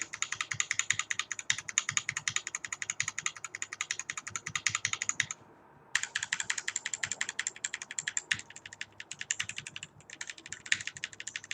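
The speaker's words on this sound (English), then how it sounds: "the function key row, is without O-rings, so you might hear they sound a little bit louder" Mechanical keyboard function-row keys without O-rings, on a GMMK full-size board, are typed in a fast, steady stream of sharp clicky clacks, with one brief pause, close up and fairly quiet.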